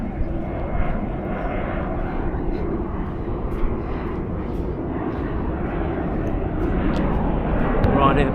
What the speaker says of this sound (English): airplane going up there